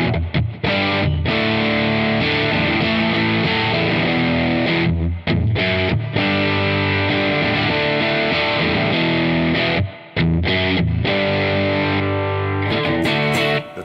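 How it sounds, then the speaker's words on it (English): Loud, heavily distorted electric guitar, a Danelectro 59M NOS+ on the bridge pickup through a Meteor distortion pedal, playing sustained chords and riffs, with a few brief pauses between phrases. "Bridge pickup, everything up, distortion. Which one do you want to start off with? Meteor. Meteor distortion,"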